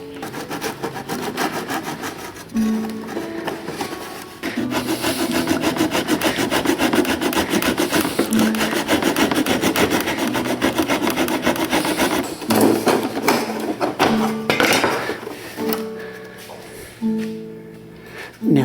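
Saw or cutting tool working around the clamped back of a guitar during a repair, a steady close, loud rasping that runs almost continuously with brief pauses and shifts in pitch.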